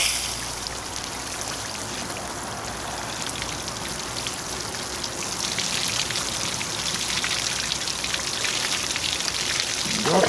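Raw chicken is rinsed under running water, a continuous hiss and patter of water splashing over the meat that grows slightly louder partway through and goes on without talk.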